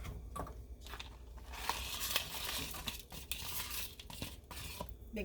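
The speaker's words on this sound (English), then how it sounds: "I'm gonna go ahead and cook palm sugar, make nice and brown color" Palm sugar with fried garlic cooks in a pan, giving a steady crackling, crinkly sizzle with a few sharper pops, moderately loud and close, with no talking.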